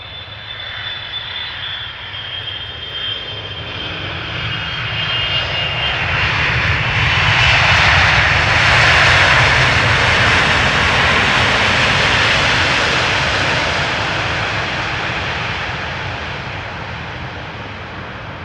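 A 15-year-old Boeing 777-300ER jet airliner arriving at Amsterdam Schiphol from Cape Town roars past, a loud broad engine rumble swelling to a peak and then slowly fading, with no voices.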